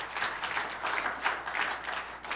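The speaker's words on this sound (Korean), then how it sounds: "박수 한번 해주세요." Applause from a church congregation at a Sunday afternoon worship service, a steady wash of many hands clapping at moderate distance for a couple of seconds, with no voices over it.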